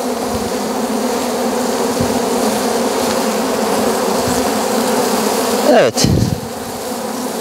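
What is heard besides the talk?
honeybees buzzing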